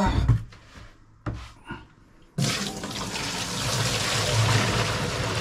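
After a few sharp clanks and pauses, water starts pouring steadily for rinsing, a continuous rushing splash that carries on to the end.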